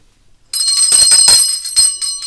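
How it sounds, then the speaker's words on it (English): A small bell starts up suddenly and rings loud and close with bright metallic repeated strikes that keep going and sustain to the end. "ring the bell for her too"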